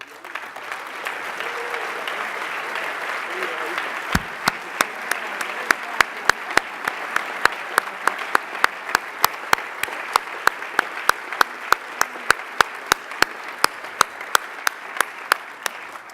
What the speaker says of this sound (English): can I ask all of the riders to stand up and take a bow and a rapturous round of applause?